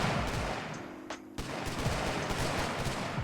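Hand cannons fire in the video game Colony Survival as a dense, rapid volley of gunshots, loud and continuous with a brief pause partway through.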